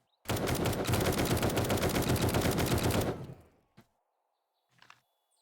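Sustained automatic gunfire in the 7 Days To Die video game, a dense, loud burst of modded-weapon fire lasting about three seconds, then a short tail and a faint click.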